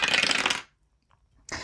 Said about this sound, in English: why don't we roll a dice to determine which ones we're going to do